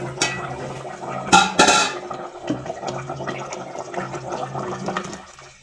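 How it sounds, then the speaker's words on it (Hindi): Water is poured from glasses into a pot of chicken and potato curry, a steady splashing fill with a few clinking knocks, loud and close with no talking. "ये 2 गिलास मैंने इसमें पानी के डाले हैं।"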